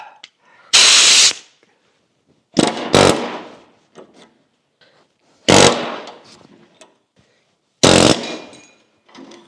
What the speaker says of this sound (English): Chisel.